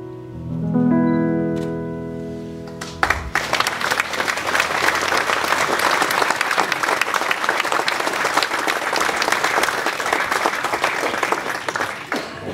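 Audience at a municipal New Year's wishes ceremony in Nilvange breaking into sustained applause, dense even clapping from a large hall crowd after a few seconds of music, continuing steadily to the end.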